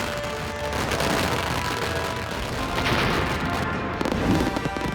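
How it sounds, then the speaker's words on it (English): Dense barrage of fireworks at the Lewes Guy Fawkes bonfire night celebration, continuous crackling and booming bursts layered over each other with loud crowd-scale noise throughout. "and every kind of firework you can imagine"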